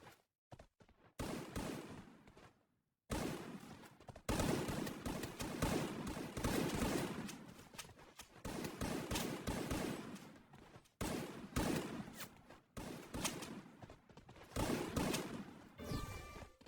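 Rapid bursts of video game gunfire crackle in dense volleys, separated by short silent gaps, loud and close throughout.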